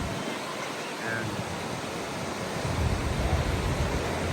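Large ocean waves break and wash steadily onto a busy surfing beach in Daet, Camarines Norte, a broad continuous roar of surf that builds louder toward the end, with faint voices in the background.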